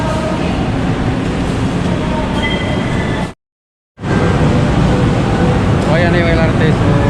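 An LRT light rail train pulls into a station with a loud rumbling roar and a high squeal of brakes near the end, briefly cut by a short gap of silence.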